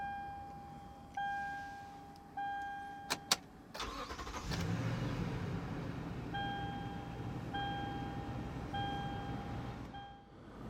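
A 2015 Toyota Sequoia Limited cranks and fires up after a few chimes and clicks, settling into a steady, moderately loud idle with recurring warning beeps over the engine; no talking.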